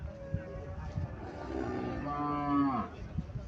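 A Friesian cow at a cattle market lets out a loud, drawn-out moo that rises and sways, with low background murmur from the market around it.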